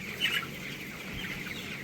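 Chickens, young cockerels about seventeen days old and recovering from a cold, cluck on a poultry farm, with a brief louder burst of clucking near the start, then a steady, moderately faint murmur of fowl.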